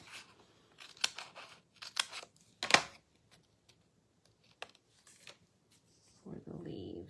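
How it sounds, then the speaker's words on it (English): Scissors snipping through craft pieces for leaves, a few crisp separate cuts and rustles spaced out with quiet gaps between them, followed by a brief burst of handling noise at the end. "I need to cut some of these in half."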